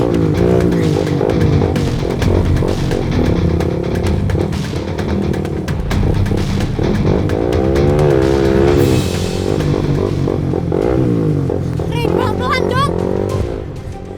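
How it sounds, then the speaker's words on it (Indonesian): A motorcycle is ridden fast, its engine roaring loudly and steadily with rising and falling revs, while voices speak over it. "Mau aja lagi dipaksa naik motor ini."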